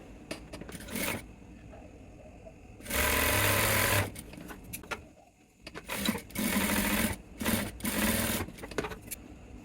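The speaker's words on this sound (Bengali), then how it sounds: "প্লাইটাকে আমি লাগিয়ে নেব সেলাই দিয়ে" A sewing machine stitches a pleat onto a trouser cross pocket in short rapid bursts, one longer steady run and several choppy spurts separated by quiet pauses, close and fairly clear.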